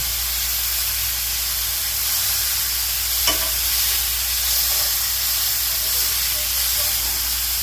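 Pork sizzles loudly in a hot pan as it is turned, an unbroken, close, hissing fry with one brief clatter from the pan or tongs partway through.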